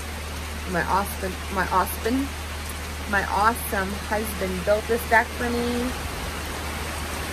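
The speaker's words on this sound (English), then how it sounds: "It's really raining" Rain falls steadily on a covered back deck, a constant, even hiss that runs the whole way through beneath someone talking nearby.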